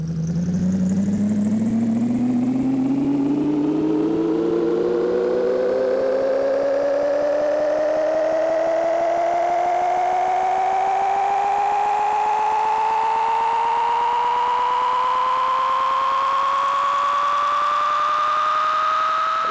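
A steady video game truck engine drone in reverse rises continuously in pitch, whining higher and higher over about twenty seconds, loud and unbroken with no voices.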